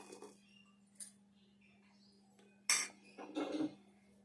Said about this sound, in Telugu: ఇప్పుడైతే ఎల్లిపాయలు దంచుకుందాము.